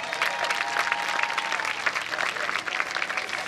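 Pageant audience at the Wauseon Homecoming fills a hall with steady, dense applause, a continuous wash of many hands clapping throughout with no voices standing out.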